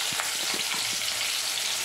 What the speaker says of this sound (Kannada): ನಾನು ಒಂದು ಟೊಮೆಟೊ ಹಾಕ್ಕೊಂಡಿದ್ದೀನಿ ಇಲ್ಲಿ